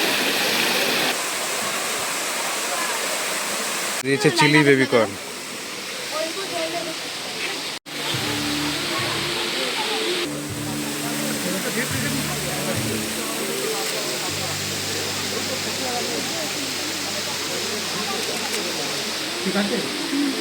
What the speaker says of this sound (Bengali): এই ঝর্ণাটা চালু করে দিয়েছে